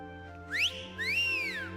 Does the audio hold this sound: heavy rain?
no